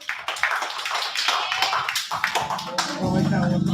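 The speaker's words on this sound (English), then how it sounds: "Let's clap it up for Chris, y'all." An open mic crowd applauds a performer, a dense wash of many hands clapping steadily at close range, with a sustained low tone rising near the end.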